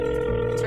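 A phone ring tone sounds in the Roblox game Brookhaven, a short steady electronic tone heard alone.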